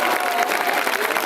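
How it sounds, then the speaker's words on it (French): Brief burst of audience applause at a seal show in the Aquarium du Québec, steady crowd clapping with a voice faintly audible underneath. "On peut applaudir Cléo très fort."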